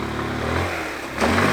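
A GY6 150cc scooter engine revs on the throttle, a loud close droning whine that dips then surges up again.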